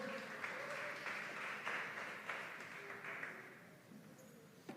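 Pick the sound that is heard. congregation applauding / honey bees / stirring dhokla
congregation applauding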